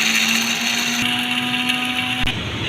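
Electric spice grinder whirring steadily as it grinds cinnamon sticks, black cardamom and cloves for haleem masala, a loud continuous motor hum with a brief pitch dip partway through, no voices.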